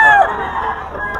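A Black Henny gamefowl rooster crows once at close range, a loud drawn-out call that tails off, with faint background noise beneath it.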